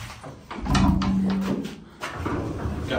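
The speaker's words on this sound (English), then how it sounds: "All right, close the door." A Montgomery dry-powered hydraulic freight elevator door at Beachwood Place in Beachwood, Ohio slides shut with a heavy rumbling scrape and a low thud, heard close up.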